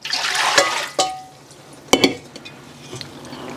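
Cabbage brine water is poured out of a container to drain while making kimchi. A splashing, rushing liquid pour starts the sound and then cuts off, followed by a few clinks and knocks of kitchenware.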